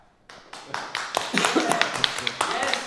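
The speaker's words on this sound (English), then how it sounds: "let's do a 10 solid seconds of enthusiastic cheering, starting now" Crowd of meetup attendees at a tech talk in Lyon breaking into sustained applause, sharp irregular claps building within the first second into a dense, steady patter that carries on to the end, mixed with scattered voices and cheers.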